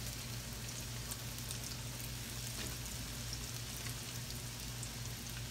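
Fish cakes frying in oil in a skillet, a dense, even crackling sizzle that holds steady and close throughout with no talk.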